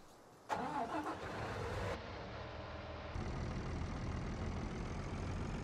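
An International Durastar chip truck in Farm Sim 19 starts up with a short cranking burst and settles into a steady mid-pitched diesel idle and rev, close and continuous with no talk.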